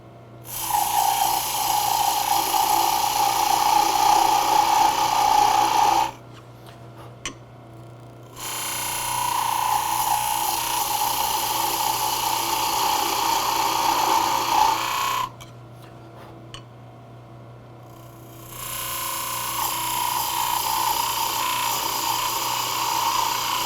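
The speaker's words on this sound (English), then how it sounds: "With my lines established, I can now part the tenon on the end" A wood lathe parts a tenon on the end of a turned wooden Christmas ornament, giving a steady high whine with scraping cutting noise in three sustained bursts separated by brief near-silent pauses.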